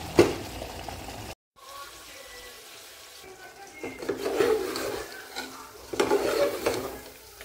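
Mutton is stir-fried down in a pan for kosha, with a spatula scraping and stirring, a wet sizzle, and bursts of louder clatter after a brief pause, all close and moderately loud.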